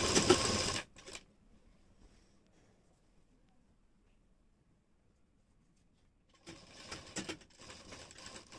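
A sewing machine stitches a kurti side slit in two short bursts, one at the start and one near the end, with a long quiet pause between them.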